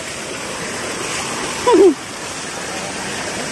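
River stream water flowing steadily at a riverside fishing spot after upstream rain, a constant rushing wash with a brief splash-like burst partway through.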